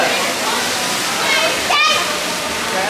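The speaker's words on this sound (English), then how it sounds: "The bucket tipping the water everywhere" Water rushes steadily from the big tipping bucket at Splashaway Bay, the water park on the Wonder of the Seas cruise ship, swelling into a heavier splash partway through, with faint voices mixed into the spray.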